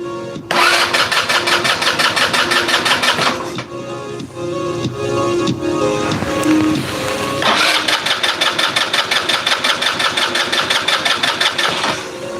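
A gasoline engine fires up from its starter button and runs with a loud, close, rapid mechanical chatter, briefly easing off partway through before settling back into a steady, fast-pulsing run.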